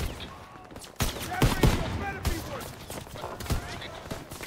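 Gunfire rattles through a Call of Duty: WWII match in sharp, repeated bursts and single shots, loud and close, with a player talking over the action.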